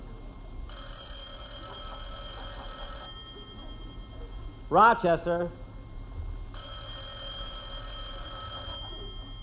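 A vintage telephone bell rings in a radio comedy sound effect, two long ringing bursts separated by a man's brief spoken call, with a steady hum underneath.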